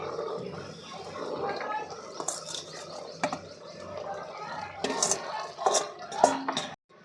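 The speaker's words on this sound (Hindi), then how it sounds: "अब इसको हम चलाते हुए भून लेंगे" Boiled peas being stirred and roasted in a pot for a village-style matar chola, with scraping and clinking of a spoon against metal and a few sharper knocks near the end, under a continuous sizzling background.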